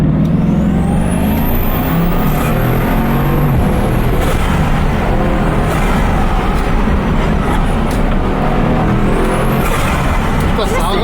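A Bugatti Chiron with a 1,500-horsepower engine revving hard, loud and close, with sharp high whistling turbo and dump-valve sweeps over a dense roar; voices are audible underneath.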